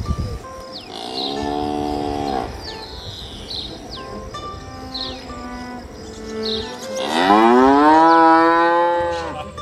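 A cow lows loudly and close by, one long moo followed by a second drawn-out call, while birds chirp faintly in the background.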